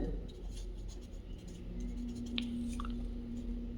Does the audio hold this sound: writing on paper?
yes